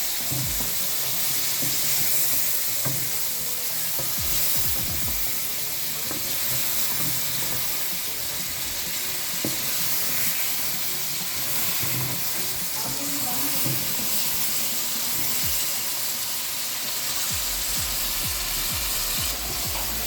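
Ginger garlic paste frying in a karahi for a Peshawari chicken charsi karahi, a steady broad sizzle with scattered scraping stirs and clinks running continuously, close and fairly loud.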